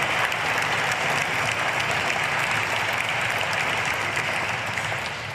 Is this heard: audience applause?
yes